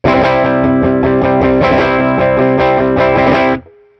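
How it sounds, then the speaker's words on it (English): An electric guitar strummed and picked without its compressor pedal, a steady flow of bright, slightly distorted notes that stops abruptly near the end, leaving a brief fading tail; no one speaks. "let's play that without the compressor"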